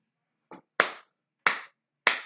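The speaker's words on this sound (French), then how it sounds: "J'applaudis au Seigneur." Hand claps of praise to the Lord during a sermon: four sharp, separate claps in a quiet room, the first soft and the next three louder and evenly spaced.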